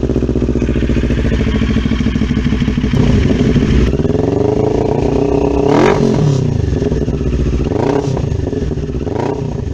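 A 400NK twin-cylinder motorcycle engine running close and loud at a steady idle, punctuated by a few sharp throttle revs that climb and drop back down.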